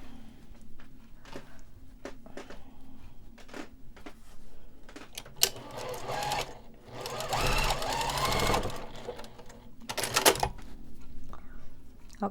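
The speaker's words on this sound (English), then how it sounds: "And now I'll sew these two together." Sewing machine joining small fabric Christmas tree ornament pieces, a few short ticks and handling clicks first, then a steady whirring run of stitching, followed by another brief burst near the end.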